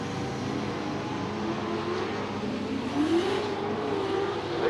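Car number 58 in a super sedan race on a speedway at night, its engine droning from a distance as it accelerates down the back straight, with the pitch rising toward the end.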